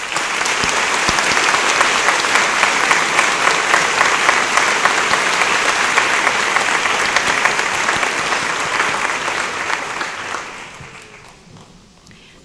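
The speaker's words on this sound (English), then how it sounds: "join me in applauding these professionals for their competence and dedication." A school graduation audience applauds loudly and continuously for about ten seconds, many hands clapping in a large hall before the sound tapers off quickly.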